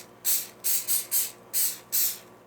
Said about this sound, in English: Spray them with the oil.